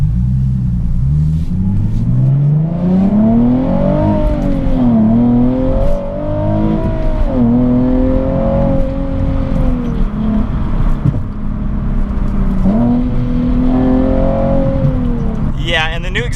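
A wide-body Nissan GT-R Nismo with a new exhaust system accelerates hard through several gears, its loud engine note rising and falling in repeated sweeps, heard from inside at close range.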